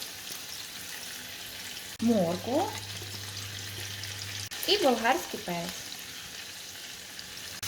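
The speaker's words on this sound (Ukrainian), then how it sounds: "Перекладаю сюди сосиски, перемішую і буду смажити хвилиночок 5" Sausages and onions sizzle steadily in a hot pan, with bursts of stirring and scraping, while someone talks quietly over the frying.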